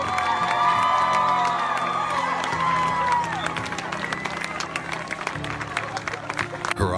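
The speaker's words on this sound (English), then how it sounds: "the crowd around them erupts in cheers" A crowd cheers and applauds at a soldier's homecoming reunion, a loud continuous roar of claps and whoops. It mixes with voices and a faint musical tone early on, then eases slightly and keeps going to the end.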